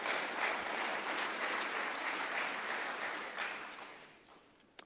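Audience applause during a State of the City address, a full wash of clapping from a large room that holds steady, then thins and fades out toward the end.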